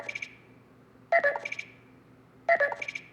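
Ringtone from a Nothing Phone 2, a crisp electronic pattern of bright beeps and tones repeating three times in quick phrases, clear and close with no talking.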